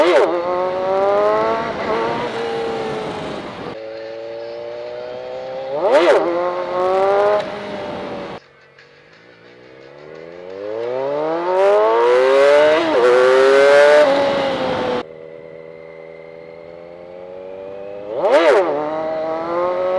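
A Kawasaki Z1000 motorcycle on a road in second gear during wheelie practice, its engine loud and close, rising through repeated revving surges with sharp throttle blips and gear changes.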